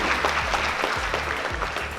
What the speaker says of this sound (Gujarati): એકવાર તમામ મંચસ્થ મહાનુભાવોનું તાળીઓથી સ્વાગત કરીએ